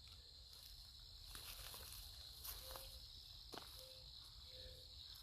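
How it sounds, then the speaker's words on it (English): Crickets chirp steadily at night in a quiet outdoor setting, a continuous high trill with a few brief, faint other sounds mixed in. "Nothing quiet. but the crickets."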